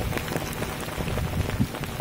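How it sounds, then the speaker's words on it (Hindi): Steady heavy rain pours down, a dense continuous hiss with scattered louder drops splashing nearby, no voices. "बारिश इतना हो रही कि पूरा मौसम ठंडा हो गया है"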